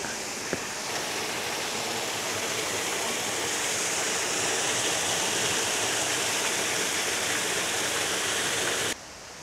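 A river stream in Momijidani valley on Miyajima rushes in a steady, full broadband wash of flowing water, close and continuous, with one brief click near the start and no talking.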